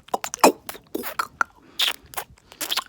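Close, wet crunching and smacking of gum being chewed ASMR-style, a quick irregular run of loud mouth sounds with short pauses.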